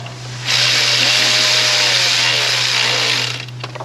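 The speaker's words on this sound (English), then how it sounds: "Not tightening it, I'm just running these fasteners down." A power tool on a wobbly 10 mm extension spins fasteners down on a 2.4-litre PT Cruiser, a loud, close, steady whir that holds for about three seconds before cutting off.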